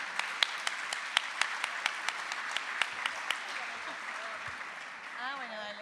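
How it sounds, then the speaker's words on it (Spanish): An audience at a talk on teachers' work and health applauds a speaker, with a steady crowd clapping and a few sharp, louder claps near the front. The applause fades as a voice begins talking at the end. "Un aplauso para Julieta."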